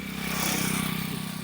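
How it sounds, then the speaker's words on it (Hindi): A motorcycle carrying a rider and passenger passes along a rural road among farm fields in Unnao, a steady mid-pitched engine drone that swells slightly, then fades a little, moderately loud. "तो बाइकर है, वो जा रहा है अपनी वाइफ वगैरह को लेके।"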